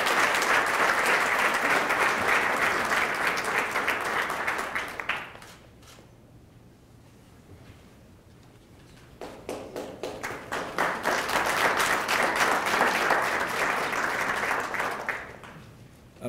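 At an annual recognition ceremony, the audience gives an award recipient a round of applause. Dense clapping runs for about five seconds, drops to near quiet, then swells again into a second sustained burst before ending abruptly.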